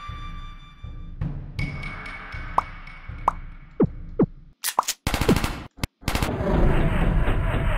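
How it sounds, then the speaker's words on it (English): Rapid bursts of video-game gunfire from The Henry Stickmin Collection prison escape, sharp repeated shots and zipping effects in quick succession, building into dense overlapping blasts near the end. "literally becomes Neo, dodges every single bullet"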